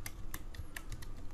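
Soft, quick keystrokes on a computer keyboard, about seven light clicks in an uneven rhythm, faint and close against a low steady background hum.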